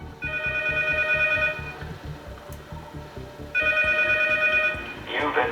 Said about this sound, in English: The third laugh played, and the phone rang.